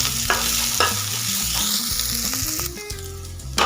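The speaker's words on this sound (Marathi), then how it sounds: "हे काजू पण आपल्याला त्याच्यामध्ये फ्राय करून घ्यायचे" Cashews frying in oil along with onion, ginger and garlic in a pan, a steady close sizzle punctuated by a few sharp spoon clicks and scraping stirs, with no speech.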